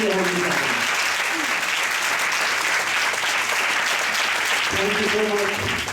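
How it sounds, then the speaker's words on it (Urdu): Church congregation applauding together during a Sunday service, a dense steady wave of clapping that swells and holds for several seconds, with a voice speaking briefly at the start and again near the end. "اتنی ہی پرزور تالیاں بھی اس کے لیے ہونی چاہیے۔"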